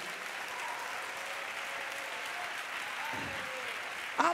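A church congregation clapping together in praise after a sermon, a steady, dense wash of hand claps filling the room continuously throughout.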